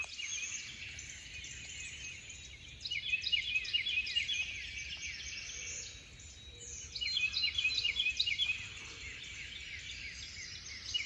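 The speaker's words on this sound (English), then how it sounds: "Love hearing the birds" Birds sing in spring woods on a morning during turkey season, with quick repeated chirping phrases coming in two clear bursts over a soft, steady background hiss.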